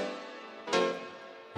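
A dub mix delay routed through a pitch shifter in series sends out dense, smeared tonal swells, with two sharp louder bursts repeating and decaying, heard alone with no talk.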